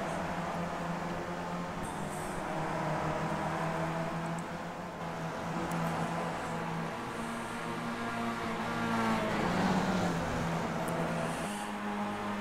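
Race cars circulate on the Road Atlanta track in the iRacing simulator, a continuous engine drone with shifting pitch and occasional passing swells, steady and fairly loud without talk.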